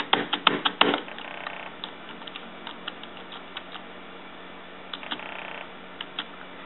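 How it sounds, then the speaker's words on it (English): Keys clatter on an old mid-1990s desktop computer keyboard that sits in poor condition with wonky arrow keys. A quick burst of clicks comes first, followed by scattered single taps and a short second flurry, all close and fairly crisp. "I forgot the arrow keys are a bit wonky on this keyboard"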